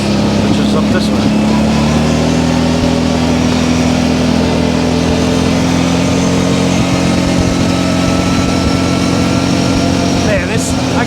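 An ATV engine runs steadily in the woods, a loud, close, even drone that holds throughout with a slight rise in pitch early on, and someone talks over it.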